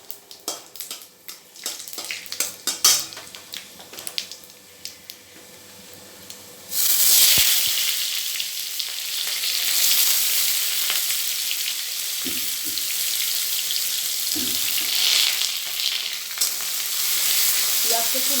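Onion and panch phoron spices hit hot oil in a pan, with a few clatters and taps at first, then a sudden loud, sustained sizzle and crackle that continues close by with occasional stirring knocks.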